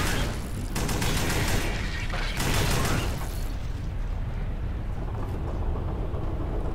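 Dense rapid pistol gunfire in the sci-fi shooter Alien Swarm: Reactive Drop, loud continuous volleys for about three and a half seconds, then a lingering rumble of game effects and mechanical noise.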